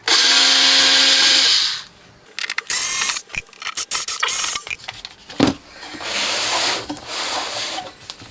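A power driver whirs loudly backing self-tapping screws out of a Peavey CS4080HZ 4000W amplifier, long bursts of motor and ratcheting clicks with short pauses and clattering between screws, no talking.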